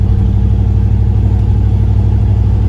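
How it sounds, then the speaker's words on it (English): A Turbo LS Caravan van engine runs steadily close by, a deep, even rumble with no clear rise or fall in pitch. "It seems like a strong engine."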